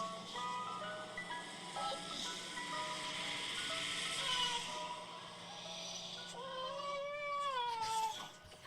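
Dogs howling and whining in drawn-out, wavering cries over tinny jingle music playing from a speaker, the howls rising and bending near the end.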